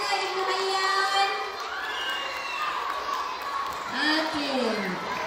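Schoolchildren at a primary school prize-giving cheer and shout in a lively crowd for a winning class, with a little scattered clapping mixed into the high, excited voices.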